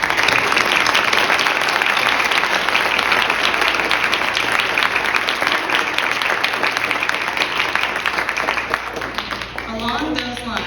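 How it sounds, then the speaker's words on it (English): Audience at a student awards ceremony applauds in a loud, continuous round of clapping, sustained for about ten seconds before tapering slightly at the end. "Let's give all of them a round of applause."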